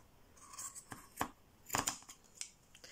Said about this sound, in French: Je vais prendre le ciseau qui est là. Le ciseau couture.